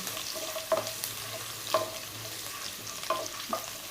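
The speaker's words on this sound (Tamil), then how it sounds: "நாலு பல் பூண்டு பெருசாக பொடியாக கட் பண்ணதை சேர்த்துக்கோங்க அதுவும் நல்லா வதங்கட்டும்" Chopped garlic, four cloves cut coarse, sautés in oil in a pan for a gongura chicken fry, giving a steady soft sizzle broken by a few sharp spatula scrapes and stirs.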